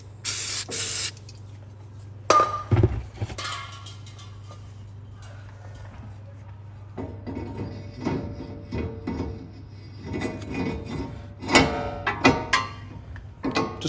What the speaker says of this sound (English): I just want to give it a good squirt off on the inside, get off any oil or grease that's on it from packing.